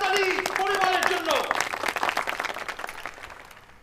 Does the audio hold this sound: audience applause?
yes